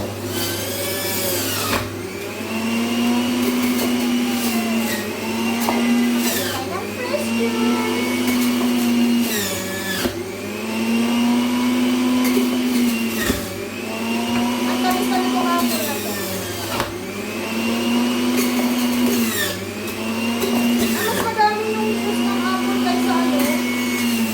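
Countertop blender whirring through apple and carrots for fresh juice, several loud motor bursts that rise and fall in repeated pulses, each separated by brief pauses, close to the listener with the motor pitch shifting under load.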